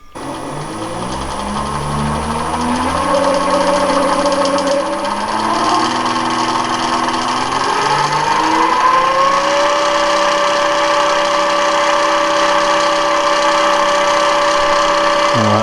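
An Emco V10-P lathe motor driven by a VFD ramps up through speed, its whining pitch rising in steps and then holding at a steady hum. The loud machine drone is close and continuous.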